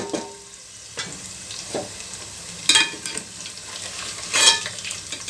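Paneer and vegetables fry in a pan with a steady, soft sizzle, broken by a few scraping stirs and brief louder clatters, close and alone.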